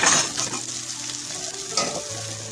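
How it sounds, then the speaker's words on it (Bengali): Spice masala frying in a pan for an egg dal, soft continuous sizzling with a couple of spatula scrapes and stirring knocks, nearby and with no voices. "তো এটাকে আরো এখন কষিয়ে নেব কিন্তু আমি 5 মিনিটের মতন।"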